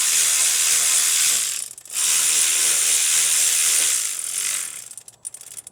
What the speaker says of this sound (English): I'll tighten in, not too tight, the bottom bolt 14